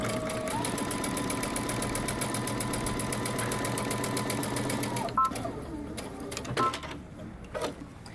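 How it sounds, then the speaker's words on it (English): A sewing machine stitches a jumper seam with a 5/8 inch allowance, a steady fast mechanical whir and rapid needle clatter for several seconds, then stopping with a few short backstitch bursts and clicks. "we're going to stitch using 5/8 inch seam allowance"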